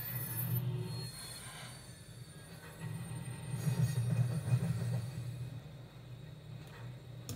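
A low, steady rumbling drone of a train in Train Simulator 2 on an airport line, with its wheels spinning under too much throttle, swelling slightly midway, faint and continuous with no talk.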